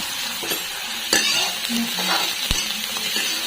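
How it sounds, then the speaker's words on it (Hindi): Chillies and garlic fry in a pan for soup, with a moderate sizzle under brisk stirring and a few sharp scrapes and knocks of the utensil against the pan. "जो इसमें फ्राई हो जाए तो इस तरीके से फ्राई करूंगी और थोड़ा सा नमक डाल दूंगी।"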